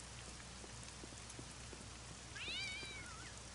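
A single cat meows once, a short rising-falling cry in the Postal 2 video game, heard over a steady hiss of falling rain.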